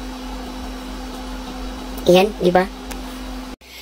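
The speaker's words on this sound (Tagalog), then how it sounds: "Diba naririnig natin yung tunog ng aircon?" A room air conditioner hums steadily and evenly throughout, underneath a person speaking briefly near the microphone.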